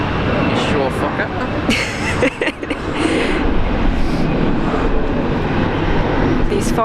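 An Alliance Airlines Fokker airliner flies overhead near Brisbane International Airport, its engine roar steady and fairly loud throughout while people talk over it.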